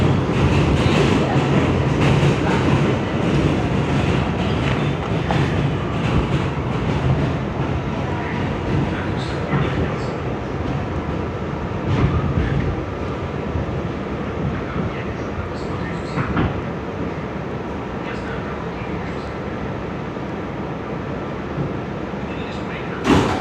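An R211 F subway train in New York rides between stations with a continuous loud rumble and rattle of the car in motion, clanks from the wheels, and faint talk mixed into the steady noise.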